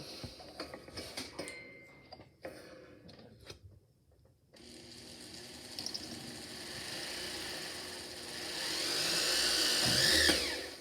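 Small rotary drill boring holes through a textured double-sided metal pendant, a steady whirring motor that drops out briefly, then resumes and swells louder toward the end.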